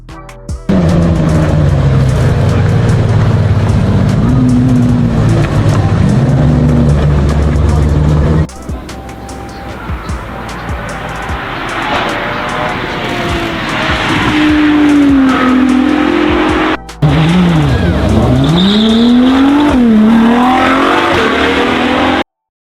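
A 2024 Ferrari Daytona SP3 with a mid-engine 6.5-liter V12 and seven-speed dual-clutch gearbox drives hard, loud engine revving rising and falling through gears with tire squeal, and a voice speaking over it throughout.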